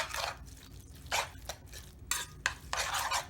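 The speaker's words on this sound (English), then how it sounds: "go ahead and just mix this all together like so" Cheeseburger cup filling is stirred together in a bowl with a utensil, producing several close, bursty scraping and squishing strokes in an irregular rhythm, with no talking.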